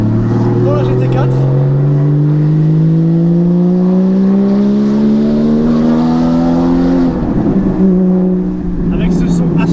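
A Porsche 981 Cayman GT4 engine roars loud and close, its exhaust pitch climbing steadily through a long pull before a sudden drop and crackling as it downshifts near the end.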